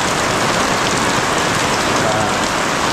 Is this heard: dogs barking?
no